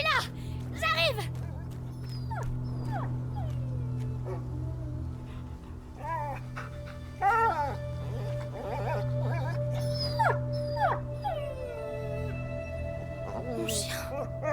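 A dog whimpers and yips in short bursts over a steady low hum in the video game A Plague Tale: Innocence, with a man calling out in French intermittently.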